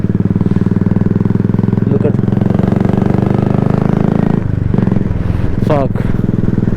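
A motorcycle idles loudly nearby with a deep, throbbing exhaust rumble and a brief rev, while someone speaks over it.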